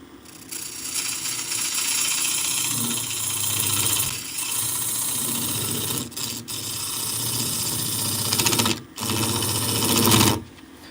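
A skew chisel cuts into spinning wood on a lathe, giving a steady, loud whirring scrape that holds for several seconds, with brief breaks where the tool lifts off.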